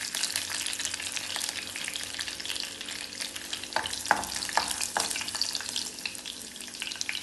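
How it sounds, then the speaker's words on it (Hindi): Five or six garlic cloves sizzle and crackle steadily in hot ghee, a dense, continuous frying hiss with a few sharper pops near the middle, close and fairly loud, with no one speaking. "अब हम इसी घी के अंदर सबसे पहले तो गार्लिक क्लोव्स डालते हैं"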